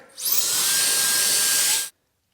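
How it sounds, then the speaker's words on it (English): An air blower hisses in a steady, close, high-pitched rush for under two seconds as it is aimed at a car's interior carpet, then stops sharply into silence. "Again, once more, I'm going to hit it with the blower."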